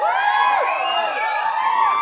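Crowd of fans at a Telugu movie team event in Tirupati for Akkada Ammayi Ikkada Abbayi, a dense, continuous wash of cheering and high shouts throughout, loud and close.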